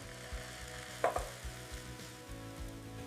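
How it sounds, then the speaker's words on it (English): Eggs cooking in a little olive oil give off a faint, soft sizzle in a pan, with a few light taps and clinks. The sound is quiet and close, with no talking. "Cook the eggs with a little olive oil."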